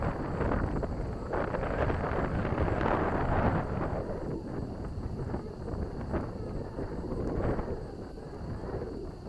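Strong wind buffets the microphone on a windy morning drone flight with a Champ S+ quadcopter, a constant loud rumbling roar that gusts and eases, under a faint steady high motor whine.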